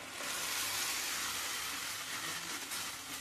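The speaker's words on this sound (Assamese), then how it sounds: "এতিয়া এই বিলাহী পিউৰিখিনি দিয়াৰ পিছতো ভালদৰে ভাজি ল'ম।" Tomato puree sizzles steadily in hot oil in a pan while an egg and cauliflower curry is being cooked, a dense, continuous frying hiss heard up close with no talking.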